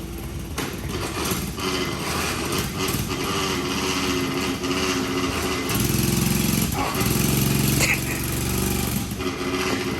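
A built Honda four-wheeler ATV revs hard while stuck in mud, its engine buzzing loud and close with a gritty, rapid pulse that climbs in pitch midway and then eases back.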